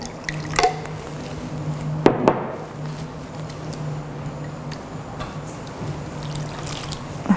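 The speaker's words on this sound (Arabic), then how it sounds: "راح اسكبها فوق اللوبيا" Lemon juice and garlic dressing poured over green beans for a salad, heard as soft drips and a light trickle of liquid close by, with a few sharper splashes and no talking.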